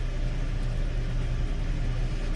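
Steady, close idle of a Hyundai Elantra engine right after first startup, a continuous low rumble with an even drone and no revving.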